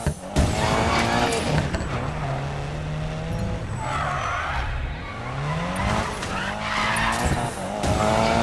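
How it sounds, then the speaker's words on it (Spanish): A car drifting in Need for Speed Payback, with sustained tire squeal and skidding over a revving engine whose pitch rises and falls, loud and continuous for several seconds. "Llevo derrapando y huyendo de la poli desde que llego al embrague"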